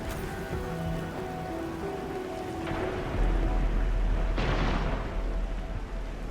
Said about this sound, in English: It's raining harder. I can't hear anything except for the rain.